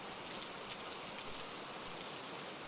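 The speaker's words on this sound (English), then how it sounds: "The rain begins to soak your clothes." Steady rain pours down, a continuous hiss of drops striking surfaces, with no voices.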